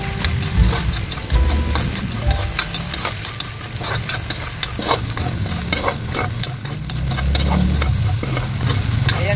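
Hotdogs frying in oil in a pan, a continuous crackling sizzle with sharp pops and spatters, stirred and scraped now and then, loud and close throughout.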